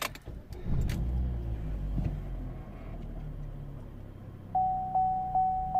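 A Vauxhall Astra J 1.6 petrol engine with camshaft fault codes cranks, catches and settles into a steady idle close by, followed by a few short repeated electronic beeps.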